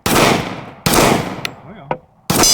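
A Sig Sauer P365 pistol fires three sharp, loud shots spaced unevenly, each with a short decaying echo, plus a small metallic click between the second and third.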